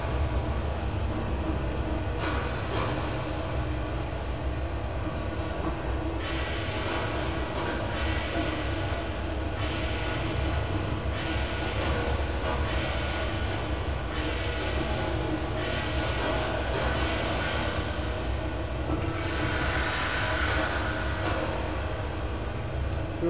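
Train Simulator game rendition of a train running on the Welsh Highland Railway; a steady rumble of running wheels with regular clicks as they pass rail joints continues throughout, and no one talks.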